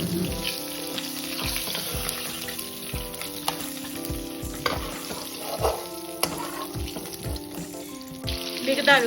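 Chicken leg pieces frying in oil, browning on both sides, with a constant crackling sizzle broken by occasional stirring and handling clinks close by.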